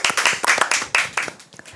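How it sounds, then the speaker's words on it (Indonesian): Hands clapping from an audience welcoming film cast members at an Indonesian entertainment show, a short burst of sharp, close claps from a small group that thins out quickly. "Tepuk tangan"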